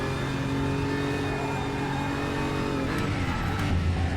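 Race cars in a sim racing video game, including a BMW, scream past wheel to wheel with a steady high-pitched engine drone, loud and continuous, with a brief surge near the end.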